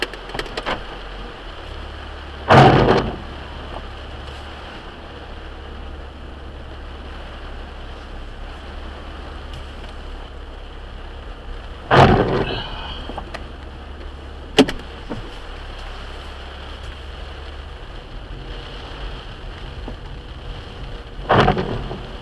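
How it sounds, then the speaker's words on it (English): Steady hiss of rain drumming on a car, with a few sharp whooshing wiper-like swipes spaced several seconds apart rising over the constant patter. "Pretty good little rain coming down."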